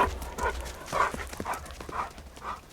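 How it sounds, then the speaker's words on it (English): A dog barks at a forest campsite in Arizona's Coconino National Forest area: several muffled, fairly close barks at roughly half-second intervals over outdoor background noise, with no talk. "what are you barking at?"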